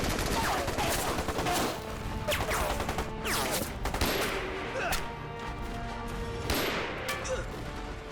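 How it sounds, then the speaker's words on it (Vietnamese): Sustained film battle gunfire from a Czech-type machine gun and Mauser pistols, with dense overlapping bursts and sharp shots ringing out loud and continuous across the whole stretch. "đó là súng máy kiểu tiệp và cả súng lục Mao giờ nữa"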